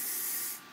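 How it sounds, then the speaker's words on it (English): Extra strength flexible hold L'Oreal Elnet hairspray hisses out in one continuous close burst that fades at the end. "I'll use my L'Oreal Elnet Flexible. It's the extra strength flexible hold"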